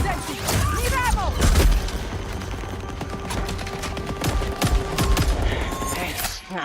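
Video game gunfire crackles in dense bursts of rapid shots and booms across a battle scene, loud and continuous, with game voices mixed in.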